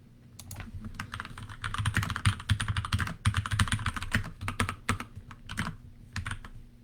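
Steady run of fast key clicks on a computer keyboard as a web address is entered, close and fairly loud with brief gaps, no voices.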